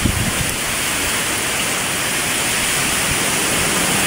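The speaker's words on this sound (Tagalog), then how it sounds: "Yan, lakas na naman ang hangin." Dense, steady rushing noise of heavy rain and strong wind from a super typhoon in Bicol, loud and unbroken, with no voices.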